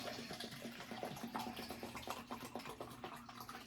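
Water poured from a large cup around the rim of a big orchid pot, a soft trickling and splashing onto potting medium, quiet and close with small uneven spatters.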